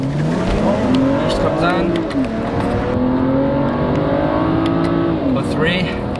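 A BMW 335i Sport accelerates hard up an on-ramp, its engine note rising steadily through the gears under continuous road and tire noise, while someone talks over it from inside the car.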